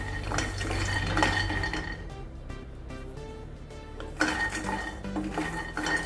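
Half a cup of peanuts dry roasted in a pan, giving close, continuous rattling and clinking of nuts and a spatula against metal cookware, with no talking.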